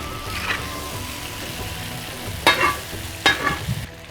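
Potatoes sizzle steadily in a frying pan, with two sharp scraping stirs as they are turned over partway through, close and moderately loud.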